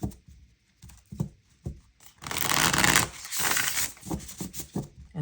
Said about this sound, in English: And I shuffle in between because I need to